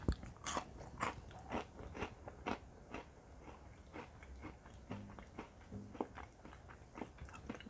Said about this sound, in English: It's crunchy and crispy, just like the cereal.